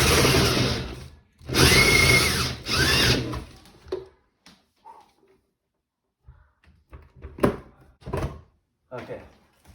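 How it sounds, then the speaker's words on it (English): A power drill drilling into a ceiling for a recessed light roars in two close bursts, then cuts out, leaving scattered knocks, scraping and brief voices. "From there, you just press in and drill."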